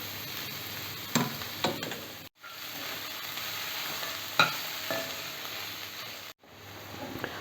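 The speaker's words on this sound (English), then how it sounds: "The onions, you don't have to fry it too much." Onions and capsicum frying gently in a pan over a low flame, a steady soft sizzle with a few light stirring scrapes and clinks, close by, with no talking.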